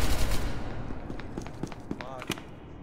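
Rapid bursts of video game gunfire crackle in quick, uneven volleys, loudest at the start then continuing as sharper scattered shots over a noisy backdrop.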